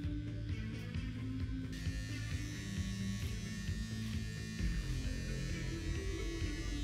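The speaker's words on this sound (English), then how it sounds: "It's like a nose trimmer, hair nose trimmer." A nose hair trimmer in the Surgeon Simulator VR video game buzzes continuously and loudly, with a steady electric-razor drone throughout and no talking.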